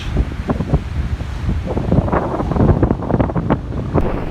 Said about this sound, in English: It sure is windy.